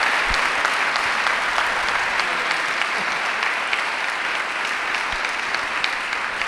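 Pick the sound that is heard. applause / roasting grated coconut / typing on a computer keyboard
applause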